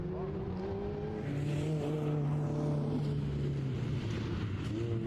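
Autocross race car number 137 running the course, its engine a steady sustained drone with a shifting pitch, heard from a distance under crowd and announcer-style background noise at an outdoor event.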